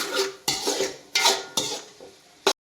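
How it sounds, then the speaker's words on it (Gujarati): Spoon strokes stirring salt and spices through potato poha in a metal pan, five distinct scraping sweeps in an irregular rhythm, close and fairly loud with no talk. "હવે મીઠું અને પછી મિક્સ કરી દેવાનું"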